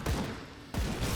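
Enemy gunfire in the action RPG Grim Dawn, a dense burst of shots crackling for about a second, fairly loud, with a brief dip partway through.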